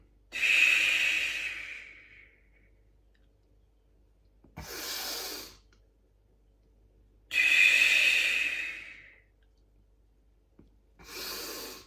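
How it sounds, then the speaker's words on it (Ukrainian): Slow, deep exercise breaths, each long audible inhale answered by a shorter exhale in a steady rhythm, close to the listener in an otherwise quiet room during a nonstop workout routine. "Вдих видих."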